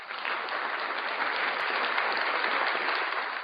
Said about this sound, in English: I'll let that round of applause breathe